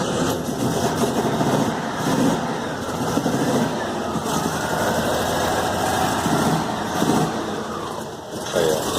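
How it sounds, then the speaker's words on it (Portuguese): Volkswagen Beetle (Fusca) engine, checked for a strange engine noise, running steadily at idle with a continuous low rumble and constant loudness throughout, with a faint voice underneath. "Vamos ligar aqui o carro para ver como que tá."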